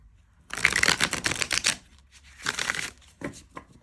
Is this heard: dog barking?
no